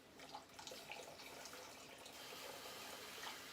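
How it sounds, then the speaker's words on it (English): Cold water pours steadily into a bowl while making Jello, a continuous splashing gush lasting a few seconds with no voices. "Now you can go ahead and pour that cold water in."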